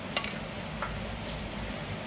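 Rice for nasi liwet being stirred in a pot with a little oil, giving a steady soft scraping and stirring texture over a low background hum, fairly quiet and continuous.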